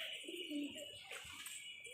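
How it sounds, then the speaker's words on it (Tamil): A pigeon coos softly at a temple, a faint, low, rolling call set against quiet outdoor ambience, heard alone and at a distance. "புறா கத்துது காய்ஸ்."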